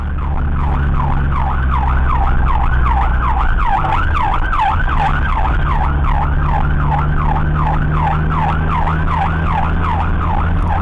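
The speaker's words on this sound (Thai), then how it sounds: "นี่เปิดทั้งไซเรนเปิดทั้งไฟแฟลชกระพริบไว้นะ" A loud rescue vehicle siren wails in a fast, steady up-and-down cycle, close by, over a low engine rumble.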